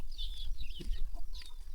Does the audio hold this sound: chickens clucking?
yes